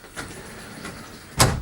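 Slide-out room on a 2014 Forest River Cardinal 3850RL fifth-wheel RV, heard as faint motor whirs followed by a louder mechanical clunk near the end, indoors and close.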